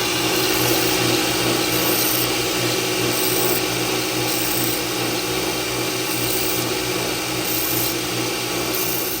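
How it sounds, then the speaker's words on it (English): A power sander grinds burrs off a machined part for a custom EDC pen, running loud and continuous with a steady motor drone and rhythmic scraping pulses as the piece is worked against it. "Take it over on the sander and clean these burrs off"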